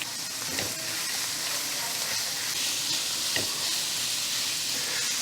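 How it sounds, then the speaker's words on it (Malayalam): Chopped large onions fry with ginger and garlic in a pan for a Kottayam-style pork fry, a steady close sizzle and hiss that runs evenly throughout, broken by a few soft stirring scrapes and no talk. "2 വലിയ സവാള ചെറുതായിട്ട് അരിഞ്ഞതിലേക്ക് ഇട്ട് കൊടുക്കുന്നുണ്ട്."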